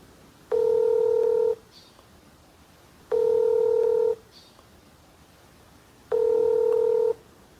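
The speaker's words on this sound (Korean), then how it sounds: "판매자한테 전화하는 거야." Telephone dialing tones while calling a seller about a newly bought motorcycle: three identical loud steady electronic tones, each about a second long, repeating at even intervals with quiet gaps between.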